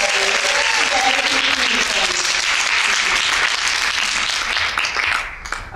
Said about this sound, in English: round of applause for the guys at the back who have been working so hard